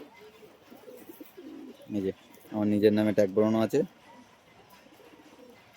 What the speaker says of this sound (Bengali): পায়রা শর্ট সাইজেরই পায়রা, গোল্ডেন পায়রা